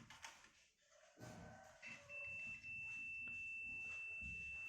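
A steady electronic continuity beep from a multimeter testing diodes in a Panasonic home theater power supply, a thin high tone holding for a couple of seconds amid faint handling noise.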